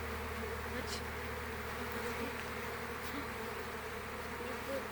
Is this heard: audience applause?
no